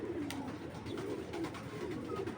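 A Giribaz pigeon coos close by in a soft, repeated, low rolling rhythm over faint background noise.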